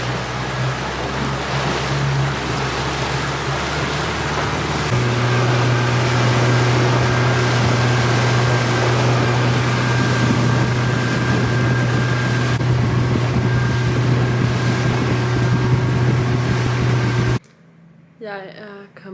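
A boat under way on open sea near Dhiffushi in the Maldives, its engine droning loudly and steadily with wind and water rushing past, a shift in engine tone partway through, then cutting to quieter sound near the end.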